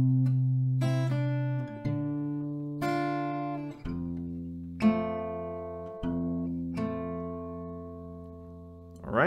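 An acoustic guitar plays the chorus of a song as a string of ringing plucked notes and chords, each left to decay before the next one, clear and alone with no voices.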